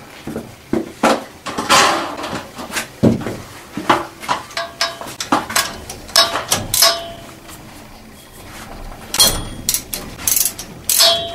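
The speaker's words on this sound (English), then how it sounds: "3/8 drive, a nice basic ratchet set" A 3/8 drive ratchet works on a steam boiler water feeder, giving rapid bursts of clicking pawl ratcheting in an irregular rhythm with short pauses and metallic clanks, close and loud.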